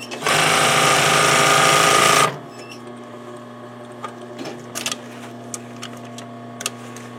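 Sewing machine stitching fabric in one loud, continuous close-up burst of rapid needle clatter for about two seconds, then stopping, followed by faint handling clicks over a low electrical hum.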